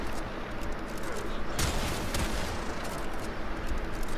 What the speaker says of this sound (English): this shotgun hits hard as hell, man